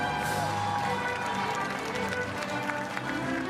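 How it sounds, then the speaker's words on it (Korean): A crowd at a 100th-anniversary commemoration ceremony applauds in a dense, sustained wash of clapping, with voices heard over it throughout. "다시 한번 큰 박수 부탁드립니다"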